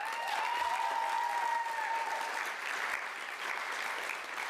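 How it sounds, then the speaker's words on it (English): Applause fills a hall at an adult high school equivalency graduation ceremony, steady and continuous clapping for several seconds, fairly close, fading slightly toward the end. "give them a big round of applause"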